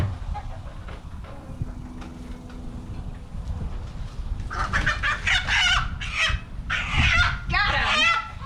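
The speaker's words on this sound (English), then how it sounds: "That's how you catch a rooster." Several loud rooster squawks and flapping bursts in the second half, following a muffled, rustling scuffle with low background noise.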